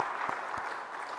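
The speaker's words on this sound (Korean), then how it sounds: "다시 한번 뜨거운 박수로 한번 격려해 드리도록 하십시다" A church congregation claps together during a Sunday service in Korea. The dense, even applause is fairly soft and fills the whole short moment.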